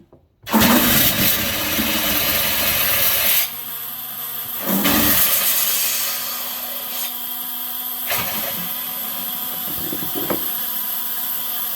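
Compressed air rushes out of opened water line valves on an RV in a barn, with a bucket set beneath. A loud, steady hiss starts abruptly, drops in level midway, surges again, then settles into a continuous rush with no talking.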